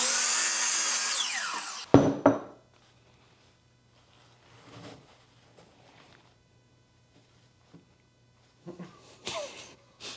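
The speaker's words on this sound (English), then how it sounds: "Now we're gonna go over to our miter saw." Miter saw cutting a 30-degree angle in wood: a loud buzzing cut that ends abruptly with a thump, then quiet handling knocks and a low hum, with a short burst of sawing-like noise near the end.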